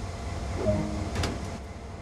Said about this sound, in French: Ouvrez la porte de la cabine et entrez à l'intérieur.